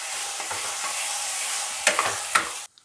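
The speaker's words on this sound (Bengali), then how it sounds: "এবার সব দিয়ে ভাজা ভাজা করে নেব" A stuffed chili fries mixture fries dry in a pan with a steady broadband sizzle, broken by a few sharper scraping stirs near the end before cutting off abruptly; no voices.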